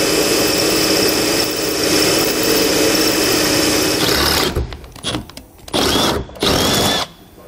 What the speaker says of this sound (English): drill both of those out with a 3/8 drill bit